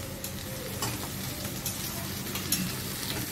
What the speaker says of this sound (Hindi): जब प्याज थोड़ा भुज जाए फिर उसके बाद उसमें भिंडी डालना है